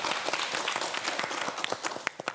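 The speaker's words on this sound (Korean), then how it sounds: "큰 박수로 청해 듣겠습니다" Studio audience of a KBS morning talk show applauds steadily for an incoming neurology professor, dense close clapping throughout with no talk over it.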